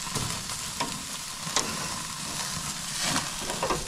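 Pork shoulder steak and baby back ribs sizzling on a grill, a continuous close crackle and hiss with scattered sharp pops and scrapes as pieces are moved, no talking.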